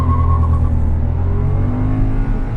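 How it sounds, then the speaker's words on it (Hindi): A Renault Kiger 1.0 non-turbo three-cylinder engine revs loud and close, holding a steady, thrumming high-rpm drone with no voices over it. "Revving the engine, let's go."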